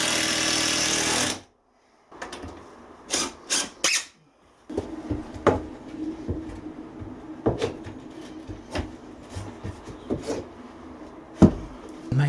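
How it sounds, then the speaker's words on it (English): Timber battens being fixed in a DIY shed build, with a series of sharp knocks and taps spaced irregularly, some in quick clusters, over a faint background hum. "I'm using both screws and nails for securing these timber battens"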